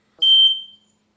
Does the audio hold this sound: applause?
no